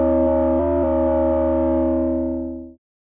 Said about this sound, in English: FM noise that I made in Serum, it sounds like this.